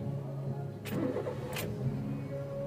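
A Honda City with a hard-start problem, freshly fitted with a new spark plug, cranks briefly and catches on the first try, then settles into a steady idle, close by with no talking.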